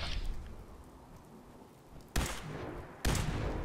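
Gunfire sets off frag mines at a raider camp in the video game Fallout 4, two sharp, loud blasts about a second apart, each followed by a crackling rumble, over quieter background game ambience.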